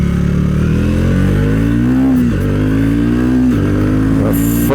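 A Triumph Speed 400 single-cylinder motorcycle revs loudly and close, its engine note climbing, dipping briefly, then holding steady and rising again through the gears.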